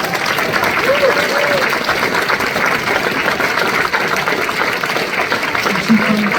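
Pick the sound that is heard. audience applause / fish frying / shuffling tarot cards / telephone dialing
audience applause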